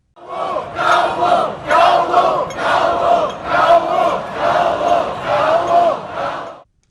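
A huge crowd gathered on a road in Mong Kok, Hong Kong, chants loudly in unison, rhythmic shouted phrases repeating in regular bursts close by before stopping abruptly.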